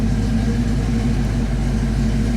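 A car engine idling through a 3-chamber Flowmaster exhaust with a deep, steady rumble, smooth and even, loud and close with no talking.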